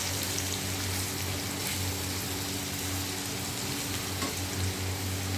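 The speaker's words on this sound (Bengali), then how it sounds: "এবার আলুটাকে নাড়াচাড়া দিয়ে একটু ভাজা হতে দেবো।" Continuous close sizzling and crackling of potatoes frying in a pan, with faint scraping as they are stirred.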